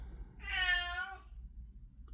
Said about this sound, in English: Oh my goodness, my cat is so dramatic